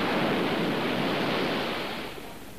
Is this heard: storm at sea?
yes